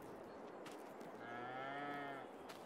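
A cow in Farming Simulator 22, on an Irish farm map, lets out one drawn-out moo midway, moderately loud over a grainy ambient background with no speech.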